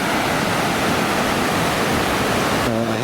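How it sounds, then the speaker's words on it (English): A small river flowing near a house, a steady, loud broadband rush of running water heard close by, with a brief voice entering at the very end. "is this amazing little river"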